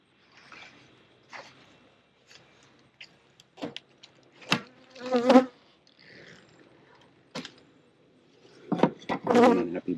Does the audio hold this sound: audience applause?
no